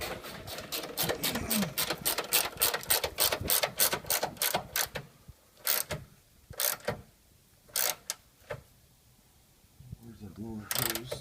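Ratchet tightening a bolt during radiator replacement on a Ford Explorer 4.0L: a rapid run of close clicking ratchet strokes, then sparser bursts of clicks with pauses, ending with a brief voice.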